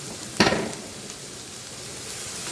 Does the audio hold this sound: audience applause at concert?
no